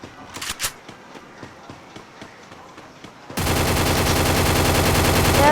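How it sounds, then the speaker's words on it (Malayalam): Automatic gunfire in the Free Fire battle royale video game, a loud sustained rapid burst cutting in midway after a stretch of scattered quieter shots and game sounds. "ഞാൻ വെടിവെക്കാൻ പോവാണ്."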